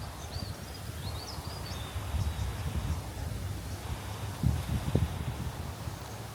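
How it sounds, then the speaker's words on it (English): Gusty wind on an open coastal walking trail at Samphire Cove Reserve in Mandurah, Western Australia, a steady low rumble of wind noise across the microphone with a couple of stronger buffets, occasional faint bird calls far off. "It's a bit windy today"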